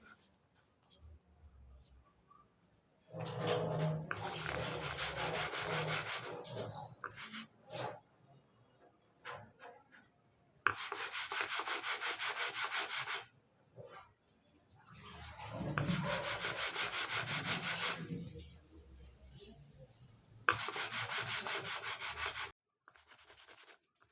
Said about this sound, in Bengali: হাতের মাঝখানে রেখে এভাবে ঘষতে হবে।